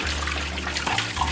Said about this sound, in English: As the water shoots out the side, it'll basically empty really fast.